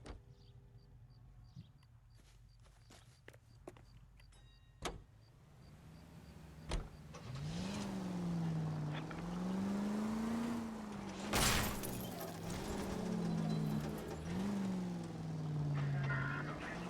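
A car in the video game L.A. Noire starts off after some clicks and thumps, then its engine drones and rises and falls in pitch as it drives, moderately loud with no voices.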